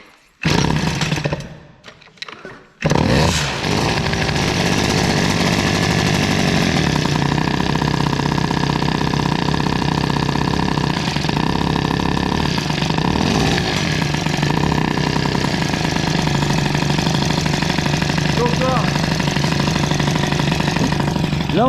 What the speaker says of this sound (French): On va voir si on arrive à avoir un bon ralenti avec ce gicleur de 58.